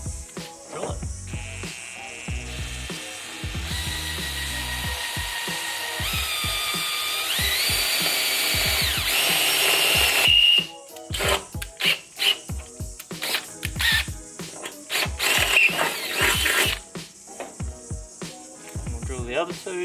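A power drill bores holes in a drag wing for an R32 Skyline, whining in several rising bursts that change pitch as the bit bites, then choppier short spurts and handling noises follow.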